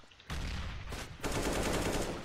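Rapid automatic rifle spray in CS:GO, two dense bursts separated by a brief gap, loud and close with no talking.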